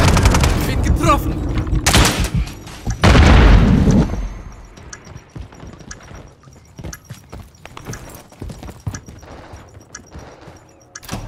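Grenade blast in the video game Call of Duty: Modern Warfare 3, a heavy booming explosion that rolls out for about a second, with sharp gunshots and game noise before it and quieter scattered clatter afterward.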